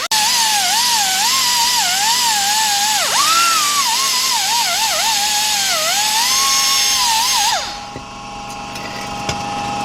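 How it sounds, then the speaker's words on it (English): A surface grinder cleans up engine parts from a 2006 Kia Sportage 2.7, a loud, close, continuous whine that wavers in pitch throughout before cutting off and leaving faint background noise. "let's get our surface grinder and let's clean both of them up."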